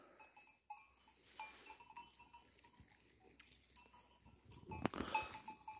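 Sheep bleating at a distance in an open outdoor space at about 7 a.m. as they are let out, with a faint bell clinking and scattered rustling, growing busier toward the end.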